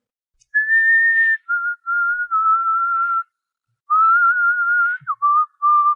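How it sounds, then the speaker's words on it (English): A person whistles the tune "Who Is Sylvia" clearly and close by, in several sustained phrases broken by short pauses, with no other sound around. "What's that you're whistling?"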